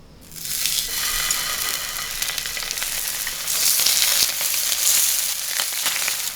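Slices of Spam fry in a smoking-hot pan, giving off a loud, dense, unbroken sizzle that starts abruptly and swells stronger partway through.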